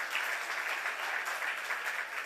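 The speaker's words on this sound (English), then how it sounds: "Yes, give yourselves a round of applause." An audience at an Emancipation Day breakfast claps, a steady, even patter of many hands at moderate volume held for a couple of seconds with no voices over it.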